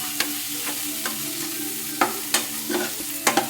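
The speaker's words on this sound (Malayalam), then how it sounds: "ഈ ചെറിയ കുരുമുളക് നമ്മൾ ഇതിലൊന്ന് ചെറുതായിട്ട് ഇളക്കി ഒരു രണ്ട് മിനിറ്റ് ഒന്ന് ഇളക്കി കൊടുക്കുക" A spoon stirs prawn roast with softened onion, tomato and pepper in a pan, giving a steady close sizzle broken by several sharp scraping strokes against the metal.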